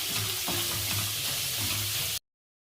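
Whole masoor lentils with Kolhapuri chilli masala and salt are stirred in a hot pan, a steady close sizzle with light scraping strokes that cuts off abruptly.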